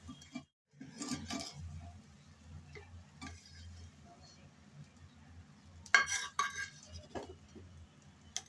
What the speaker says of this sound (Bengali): অবশ্যই কিন্তু টমেটো এভাবে পোড়া পোড়া করে ভাজতে হবে